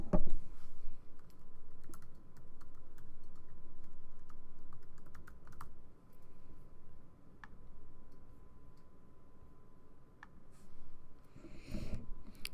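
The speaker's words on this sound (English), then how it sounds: "I'm going to type in my password" Keystrokes on a computer keyboard as a password is typed, in scattered short bursts of light clicks and taps over a steady low hum, close to the microphone with no talking.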